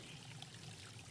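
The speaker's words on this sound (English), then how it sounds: "Here's a little water source" A small trickling water source beside a hiking trail in Linville Gorge, a faint, steady stream of water running alone without a break.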